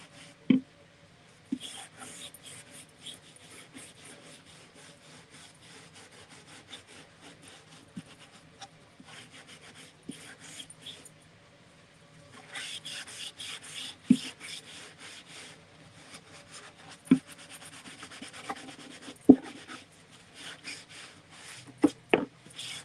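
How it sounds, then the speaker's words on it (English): Hand sanding on a plastic Dollar Tree blow-mold ghost, heard as soft, scratchy rubbing strokes in bursts with scattered sharp taps and knocks, quiet and close. "may just need to sand that one spot a little bit more"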